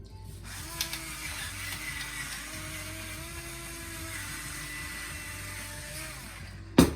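A pepper grinder cranks pepper into a creamy tomato basil soup, giving a steady, close ratcheting grind that runs for about six seconds, followed by a short knock at the end.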